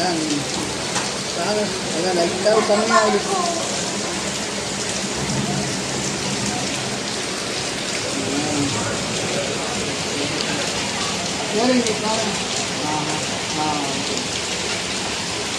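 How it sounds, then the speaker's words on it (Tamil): Heavy morning rain pours steadily and loudly, a dense, continuous hiss that lasts throughout. Faint voices occasionally surface beneath it. "மழை பெய்யுது அடிக்குது"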